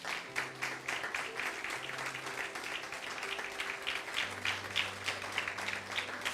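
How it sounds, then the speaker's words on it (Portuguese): A church congregation at a Sunday service claps together, with a steady wash of faint, distant hands and low sustained tones from instruments or voices running underneath. "Dá um aplauso a Jesus Cristo."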